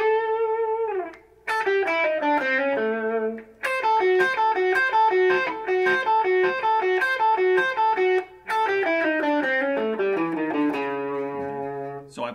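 A distorted electric guitar plays a busy blues lick of quick bending notes and runs, loud and sustained, with brief pauses between phrases.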